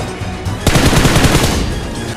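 Automatic gunfire in the mobile shooter game BGMI/PUBG Mobile: after a short quiet lead-in, a loud, sustained burst of rapid, evenly spaced shots continues for well over a second.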